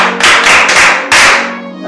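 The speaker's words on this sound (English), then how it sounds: "Give him a round of applause." Classroom children clapping in a quick round of applause, a few sharp bursts of hands close by, a short pause, then one more burst fading away.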